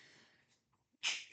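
A single close indoor sneeze bursts out sharply near the end, preceded by faint breathy sounds and a brief quiet pause.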